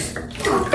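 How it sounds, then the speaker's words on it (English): A baby splashing in bath water at bedtime, with short bursts of sloshing and dripping close by; no one speaks. "you said I could splash around."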